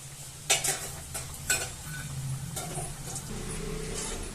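Snacks fry in hot oil with a steady close sizzle, broken by a few sharp scraping clinks of a utensil stirring the pan.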